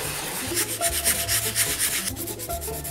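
Rhythmic rubbing strokes of sandpaper on 3D-printed plastic parts for a Portal 2 Wheatley model, close and steady with repeated back-and-forth scraping and no voices.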